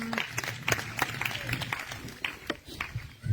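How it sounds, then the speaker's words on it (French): A congregation claps and cheers at a night prayer meeting in Grand Bassam, a dense stream of brisk handclaps with voices mixed in throughout. "On acclame le Seigneur Jésus-Christ."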